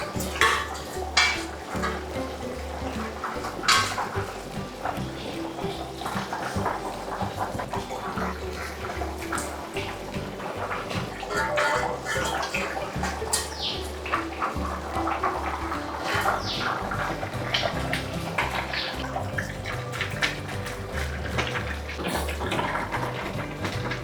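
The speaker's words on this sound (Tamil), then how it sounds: "இப்போ தண்ணி இல்லாமல் வடித்து அந்த பிரியாணியில் சேர்க்கணும்" Half-cooked rice for biryani is tipped out with water splashing and sloshing, while metal pots clatter and scrape throughout.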